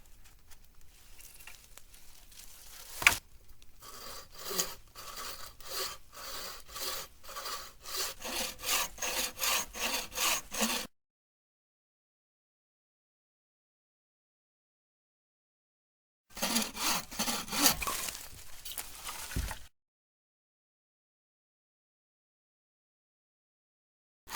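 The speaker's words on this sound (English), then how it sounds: "We'll have to saw these up, these bigger ones." A hand saw cuts through bigger firewood branches at a mountain campsite in quick, rhythmic rasping strokes. The sawing pauses into silence, then resumes briefly for a second short burst.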